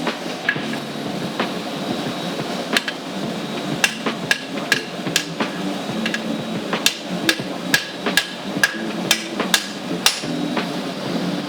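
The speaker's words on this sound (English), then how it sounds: "I can forge the bend out of it with a hammer on the anvil." A hammer strikes Damascus steel on an anvil, ringing out a steady series of sharp metallic blows, close and loud over a constant shop background hum.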